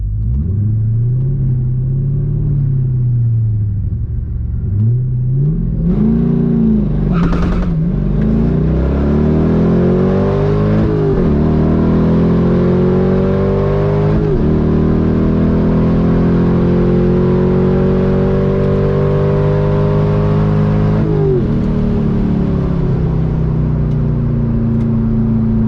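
A Chevrolet Corvette C5 with a manual clutch launches down a drag strip. Its loud, close engine note climbs hard and drops back at several gear shifts, then keeps pulling with a deep rumble, and no one speaks.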